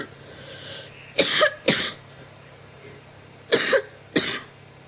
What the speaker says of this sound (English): So if I keep coughing, because I'm still got my cough.